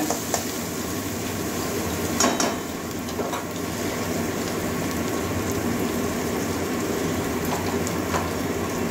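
Onions frying in a pan for a jackfruit-seed, potato and pointed gourd curry, a steady dense sizzle like rain on a surface running throughout, close and even, with no talking.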